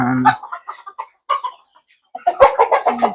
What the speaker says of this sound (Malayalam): അലങ്കാര കോഴികളാണ് അലങ്കാര കോഴികളാണ്